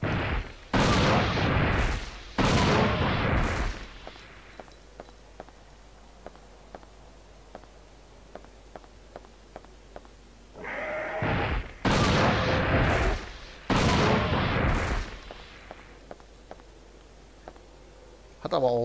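Heavy gunfire from the PS1 game Dino Crisis 2 comes in long dense blasts, separated by quieter stretches with isolated clicks. It is loud and close, and someone talks between the bursts.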